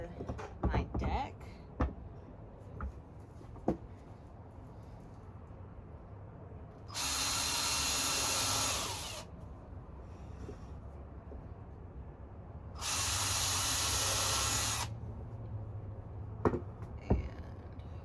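A power drill drives wood screws through a board into another board laid on a backyard deck, in two separate whining bursts of about two seconds each. Scattered clicks and handling sounds fill the pauses between them.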